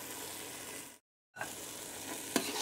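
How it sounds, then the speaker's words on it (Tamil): Steady sizzling from a spice paste sautéing in a pan for Pallipalayam chicken, a continuous frying hiss broken by a brief pause and a short stirring scrape near the end. "இதை நல்லா நம்ம வதக்கிடலாமா?"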